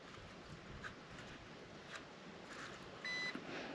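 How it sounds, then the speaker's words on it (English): A single short electronic beep from a Holy Stone HS720R drone during calibration, rotated three times, sounds near the end over faint background hiss and light tapping, quiet and close. "rotate it 3 times until you hear a beep"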